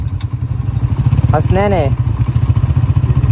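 A motorcycle climbing a rough, steep track near Khuzdar, its engine chugging loudly and steadily throughout with rattles and thumps, while a person speaks briefly over it.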